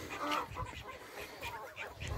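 Geese honk repeatedly at close range, a busy overlapping chorus of nasal calls with no speech.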